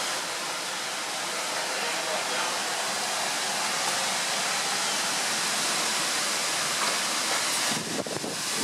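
Heavy rain in stormy weather pours down steadily in a dense, loud, continuous roar, unbroken from start to finish with a short disturbance near the end.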